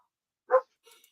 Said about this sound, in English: I do apologise about the barking in the background